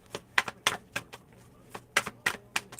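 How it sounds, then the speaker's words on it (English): Tarot cards are being shuffled, giving quick, crisp clicking and riffling taps in irregular bursts. The sound is close and fairly soft, with no talking. "I'm trying to shuffle,"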